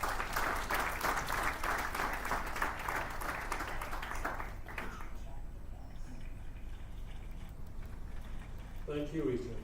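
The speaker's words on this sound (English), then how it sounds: "huge round of applause" Applause from the audience at a regional conference award ceremony, fairly faint and distant, patters for about five seconds, then dies away into room noise before a voice speaks briefly.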